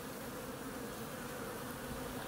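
Honey bees buzz at a one-gallon sugar water feeder, a faint, steady, even drone with no talk.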